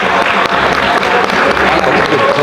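Loud, dense applause from a large crowd at a truckers' union members' general meeting, a steady wash of clapping throughout.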